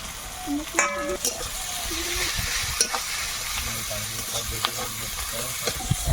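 Onion, garlic and ginger paste fries in a pan with a steady close sizzle and occasional stirring scrapes, while a voice speaks intermittently over it.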